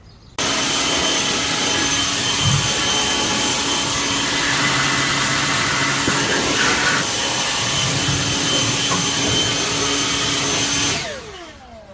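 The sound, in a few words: air blower blowing particles off a car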